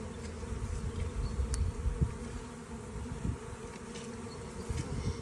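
Honey bees buzz continuously around an open hive during an inspection, a dense steady drone close by with occasional louder passes and faint handling knocks, no talk.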